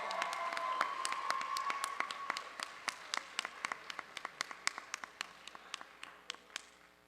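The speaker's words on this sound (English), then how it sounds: "let's give a big round of applause for him." Applause at an awards night, a soft spread of many hands clapping at a distance with sharper individual claps standing out as it carries on steadily, then fading toward the end.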